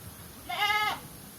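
A single goat bleat with a cough and cold, a clear wavering call lasting about half a second, close and moderately loud against a quiet background.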